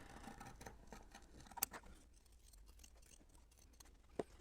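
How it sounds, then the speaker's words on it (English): Scissors snip through fabric while cutting out a glove liner for a hand-warming insert, faint quiet cuts in a still room, a few crisp clicks of the blades, no talking. "Again, I'm cutting 1/4 of an inch around."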